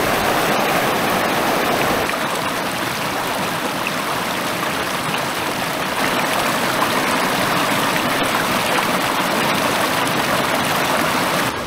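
Cold, shallow mountain stream rushing steadily over rocks, a continuous broadband wash of water heard up close with no voices.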